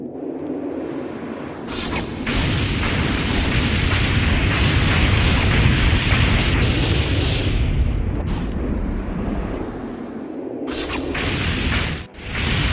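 A loud, roaring explosion as a mobile missile launcher is destroyed in the video game Reign of Fire, a sustained rumbling blast with whooshing fire that swells, holds for several seconds and then fades, with a second burst near the end.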